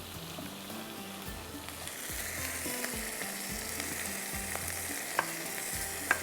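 Tomatoes and chili paste fry in a pan with a steady close sizzle, broken by occasional scraping stirs and a couple of sharp clicks near the end; no one speaks.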